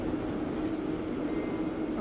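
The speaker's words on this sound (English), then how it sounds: "There goes that train." A 1938 Stock London Underground train on the Bakerloo line passes in Train Sim World 2, a steady rumbling rail roar holding even and fairly close throughout with no break.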